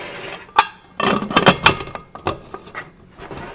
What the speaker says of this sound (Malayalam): ഇനി കുക്കർ അടയ്ക്കാം.